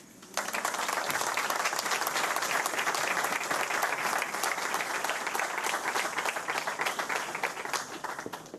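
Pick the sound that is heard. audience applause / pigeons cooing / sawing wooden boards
audience applause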